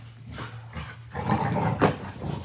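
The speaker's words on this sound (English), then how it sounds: "your two dogs making all that" Two dogs, one a Boxer, play nearby with rough growls and a short bark-like burst, the sounds rising louder in the second half.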